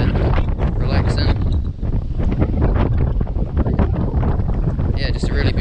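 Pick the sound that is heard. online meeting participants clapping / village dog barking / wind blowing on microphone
wind blowing on microphone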